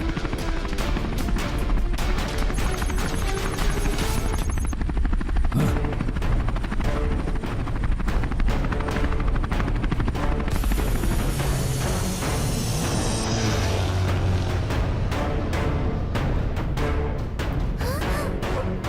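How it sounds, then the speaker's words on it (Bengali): A cartoon helicopter's rotor beats loudly and steadily throughout, chased toward a tunnel, with layered whooshes and a brief crash-like effect mixed in. "এখন ফিউচার ম্যানের ওই হেলিকপ্টার এই টানেলের ভেতরে আসতে পারবে না"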